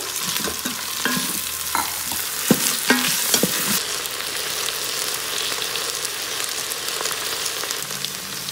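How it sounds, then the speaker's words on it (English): Mixed vegetables sautéing in an Instant Pot, a steady loud sizzle with a spoon scraping and knocking against the pot during the first few seconds, then continuous frying alone. "Now add mixed vegetables and saute them well"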